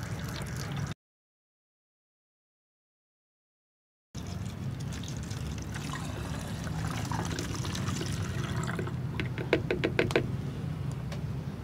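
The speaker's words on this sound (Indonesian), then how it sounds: "Kita akan masukkan ke botol ini teman-teman." A liquid mixture made from kitchen ingredients for plant care is poured into a bottle, a steady close trickle and gurgle after a brief silence, with a few knocks of the bottle near the end.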